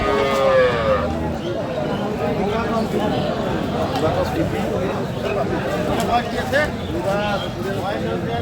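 Dairy cows and calves moo repeatedly amid a busy crowd at the Aftabganj cattle market in Dinajpur, with several people talking and chattering nearby throughout.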